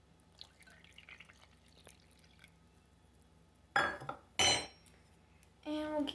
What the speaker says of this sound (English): then we'll put our water inside the well